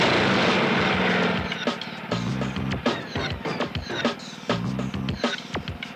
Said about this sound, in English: And start your generator.